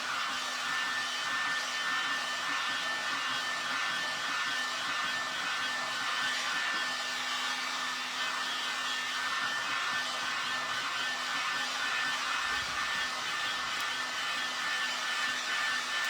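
A hair dryer blows continuously to dry paint on a recycled bunny craft piece, a loud, steady whirring hiss close to the microphone that holds unbroken for the whole stretch.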